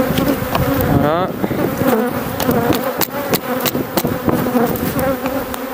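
Honeybee colony buzzing loudly and continuously at an open hive during frame work, a dense close drone with a few sharp knocks and clicks from handling the equipment.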